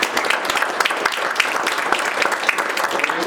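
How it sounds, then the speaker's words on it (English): An audience at a mayor's civic levee event applauds loudly and steadily, dense overlapping claps forming an even, sustained wash of sound from start to finish. "how about a round of applause"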